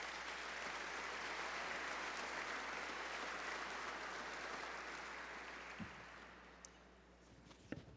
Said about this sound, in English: I don't normally get applause when I enter the courtroom